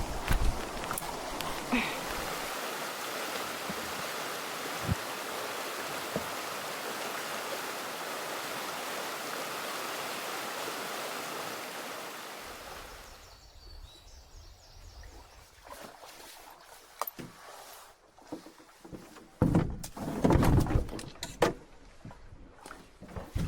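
A creek in the Quetico backcountry flows with a steady broadband rush for about half the span, then fades to quieter trickling broken by scattered knocks and clunks, as if gear or a canoe is being handled nearby.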